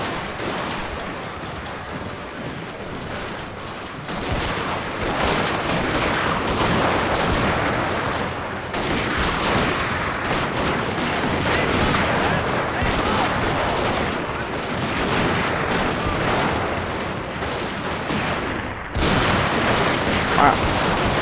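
Dense battle gunfire and artillery from Shogun 2 Fall of the Samurai, a land battle with Marines engaged: continuous rattling musket volleys and booms, loud and unbroken throughout, with a momentary dip near the end.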